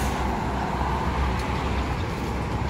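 Heavy traffic on an eastern cross-Sumatra highway near Palembang, with big container trucks and lorries producing a loud, steady low roar heard close by, with no breaks.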